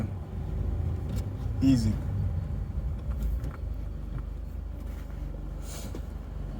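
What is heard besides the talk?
manual transmission car shifting into second gear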